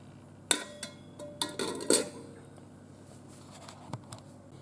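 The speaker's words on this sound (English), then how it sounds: "let's get my rack in here." Metal rack set into a Ninja Foodi Pro multicooker while cooking cabbage burritos: a few sharp metallic clinks and scrapes close by, then quieter handling noise.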